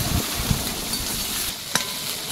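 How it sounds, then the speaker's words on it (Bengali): Ginger and garlic fry in a pan, giving a steady low sizzle with a few soft stirring scrapes and a brief sharper clatter near the end, with no talking. "আদা রসুন দিয়ে ভালো করে একটু ভেজে নিয়েছি"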